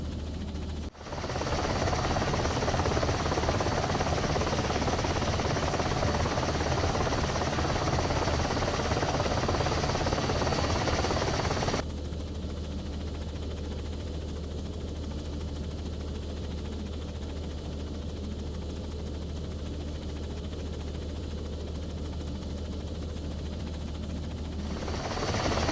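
Robinson R66 turbine helicopter in the X-Plane 11 flight simulator, a steady whining turbine and rotor drone that holds loud and even, then drops to a quieter, muffled tone for the second half, with no talking.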